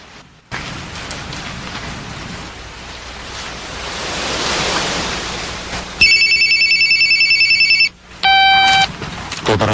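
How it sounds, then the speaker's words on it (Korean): A mobile phone rings loudly in a podcast studio, its electronic tone pulsing in bursts after a stretch of broadband hiss, with a short pause before the ringing resumes. "전화 왔어"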